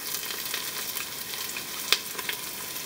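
Chopped onion fries in a pan for a slow-cooker beef and French lentil soup, a quiet, even crackling sizzle with a few small pops throughout.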